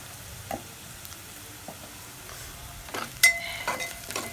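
Onions frying in a pan with salt and a pinch of turmeric, a soft steady sizzle under occasional stirring scrapes and clinks, louder bursts near the end.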